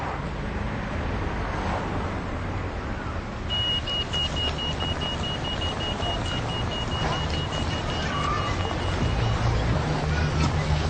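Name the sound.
road traffic at a pedestrian crossing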